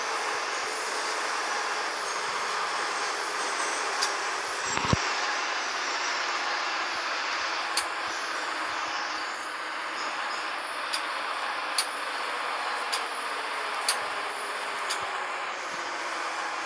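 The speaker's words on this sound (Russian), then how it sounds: "вот мы въезжаем к станции метро Пушкинская" A Minsk metro train, type 81-717, rolls into Pushkinskaya station, its steady rumble and rail noise filling the car with brief squeals and sharp clicks as it slows, heard from on board without talk.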